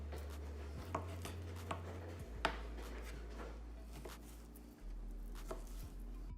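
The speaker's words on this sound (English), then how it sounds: "so I'll cut it right down the middle and start slicing." A knife slices beef into one-inch pieces, giving close, irregular cutting strikes with a few sharper knocks over a low steady hum.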